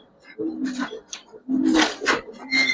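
Young and semi-adult silver Giribaz pigeons giving several low throaty coos in short bursts, close by, with a brief higher-pitched sound mixed in.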